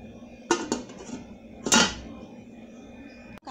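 A lid is set on a pot of boiling mauby in a home kitchen, giving two sharp metallic clanks close by, followed by a faint steady simmer and a light tap at the end.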